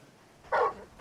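A short single bark from the huge wolf-hound companion in Final Fantasy XVI, one loud burst in the middle of a brief game moment with no talk over it.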